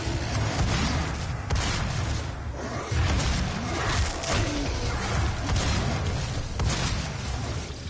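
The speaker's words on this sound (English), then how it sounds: "Boom! Explosions." Continuous roaring, rumbling explosions and blasts from DOOM, loud and chaotic with no clear pauses.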